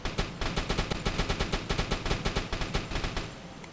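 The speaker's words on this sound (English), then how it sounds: "But we will send a few shots anyway," A submarine deck gun in the UBOAT naval video game fires a rapid, evenly spaced string of loud shots, about five or six per second, each a sharp crack with a quick decay, sustained for several seconds.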